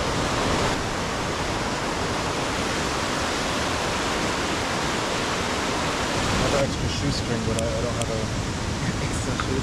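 Noisy mountain waterfall in Écrins National Park roars as a loud, continuous broadband rush that fills the whole stretch, easing slightly near the end while faint sounds break through.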